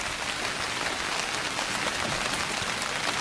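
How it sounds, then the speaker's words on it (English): Heavy rain pouring down steadily, a dense hiss of drops striking surfaces nearby with scattered louder patters, no voices. "Oh, you hear the rain coming down."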